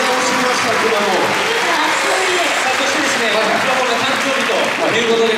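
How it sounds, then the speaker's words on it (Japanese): Sustained applause fills a stage event at a Kumamon birthday festival, following a Japanese taiko drum club's performance; dense, steady clapping runs throughout with a voice and some tonal sound mixed underneath. "大きな拍手をお願いします"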